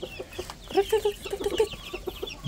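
Chickens and chicks clucking in a coop, a run of soft close clucks and short peeps in an uneven rhythm over quiet background.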